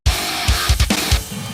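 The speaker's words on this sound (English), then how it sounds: "It's kind of starting to have that stutter effect that we were talking about." Guitar chopped into short repeating slices in REAPER for a stutter glitch effect, giving a dense, loud, choppy sound with abrupt cut-offs and rapid pulses, with no talk.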